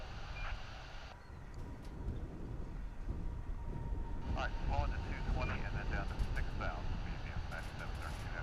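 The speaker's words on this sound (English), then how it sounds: "Here comes an A319 American Airlines flight from Querétaro in Mexico." A steady low jet rumble from an American Airlines Airbus A319 arriving at DFW International Airport, heard at a distance under someone talking, with beeps and other airport noise around it.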